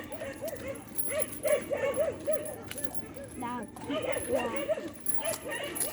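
Small puppy on a morning walk in Jamaica, yipping and whimpering in short high bursts close by, with people talking over it throughout.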